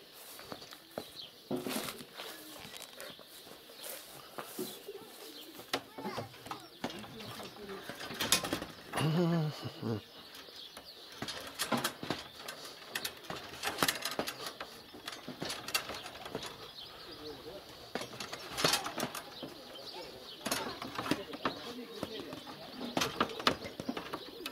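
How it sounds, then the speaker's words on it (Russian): Pigeons being fed and cooing close by, with scattered wing flutters and mechanical clicks and rattles throughout; a person speaks briefly in between. "Я хочу голубям дать поесть."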